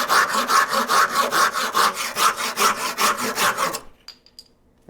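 A hand saw cuts through wood in quick, even back-and-forth strokes, about a dozen rasping passes close up, then stops, leaving near silence.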